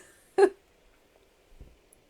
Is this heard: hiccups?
yes